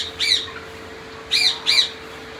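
A pet lorikeet parrot squawks three times at water time, one short harsh call followed after a pause by two more in quick succession, loud and close over a faint steady hum.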